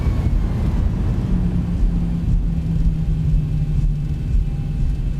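A Boeing 737-800 brakes on the runway after touching down, heard in the X-Plane 12 simulator. A loud, steady low rumble of engines and rolling wheels carries a faint droning tone and holds without a break.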